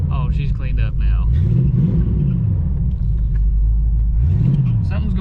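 Engine of a Vega drag car running after it cleans up, a loud close rumbling idle with a couple of slow rising and falling rev swells, with talk over it.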